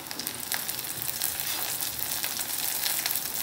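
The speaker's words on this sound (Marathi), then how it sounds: "आता याच्यामध्ये आपण कढीपत्ता टाकून घेऊया।" Curry leaves crackle in hot oil with browned onions, a loud, dense, continuous sizzle that carries on without pause and with no talking.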